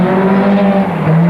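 A Datsun 1600 rally car sweeps through a downhill left-hand corner, its engine note loud and close with a strong steady tone that dips and rises briefly as it settles, lasting just over a second.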